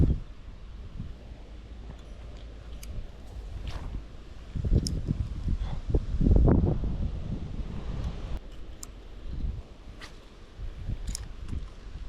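Gusty wind buffets the microphone outdoors while river fishing, low rumbling bursts that swell and fade, strongest near the middle, with faint rustling and small clicks and no voices.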